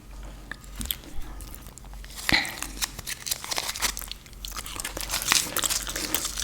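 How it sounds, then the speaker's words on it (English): Sticks of gum chewed right at a close microphone, giving a steady stream of moist smacks, crunches and crinkly clicks with no pauses. "This gum tastes good."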